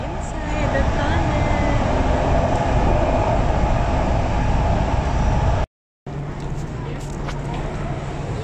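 SkyTrain metro train running in Metro Vancouver, a continuous loud rumble and hum of the car in motion with a brief cut partway through, heard from on board.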